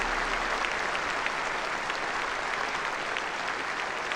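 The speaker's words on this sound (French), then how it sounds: "Vous pouvez les applaudir." Dense, sustained audience applause at a New Year's greetings ceremony, a steady wash of many hands clapping at even loudness from start to finish, with no talking over it.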